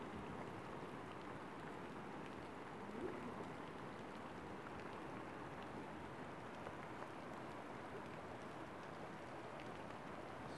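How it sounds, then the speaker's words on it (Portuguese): Rainwater drips through a leak in a roof during a rainy spell in the Bahian backcountry, a steady dense patter of falling water filling the scene at moderate level, with no talking. "Olha a água pingando na goteira pra vocês verem."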